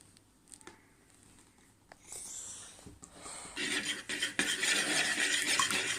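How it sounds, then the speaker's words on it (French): Eggs being mixed for a chocolate cake batter, starting with a few light clinks of utensil against bowl, then building into a quick, steady whisking rattle that grows louder and denser toward the end. "on mélange le temps que les œufs deviennent bien jaunes"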